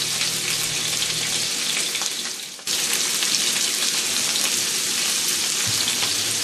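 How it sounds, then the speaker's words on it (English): Sliced pork belly fries in a teaspoon of cooking oil in a pan preheated to medium for a braised taro stew, giving a loud, continuous sizzle and crackle with a brief dip midway. "let the pork belly grill for about 1 to 2 minutes on each side"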